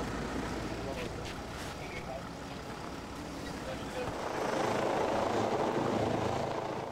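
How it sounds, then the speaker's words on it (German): Rescue helicopter Christoph 30 arriving over snowy Harz terrain, a steady rotor and engine roar that swells louder in the last few seconds as it draws nearer, with faint voices now and then. "Rettungshubschrauber Christoph 30 kommt aus Wolfenbüttel."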